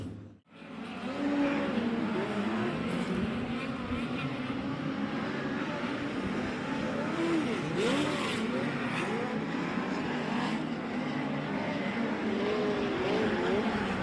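Speedcars circle in a hot lap session at the 2025 Australian Speedcar Championship, their engines whining and rising and falling in pitch as they pass, with one brief louder surge midway.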